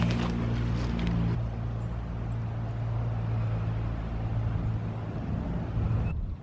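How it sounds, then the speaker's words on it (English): A four-wheeler ATV drives by near an old rural graveyard, its low steady engine rumble holding throughout at moderate distance, fading slightly near the end. "Oh, we got somebody on a four-wheeler driving by."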